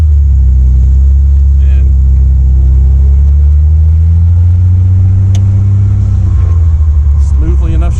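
A 1959 Austin Healey 100-6 accelerating in first gear, its engine note climbing steadily in a loud, close roar heard from inside the car, with a brief spoken word near the end.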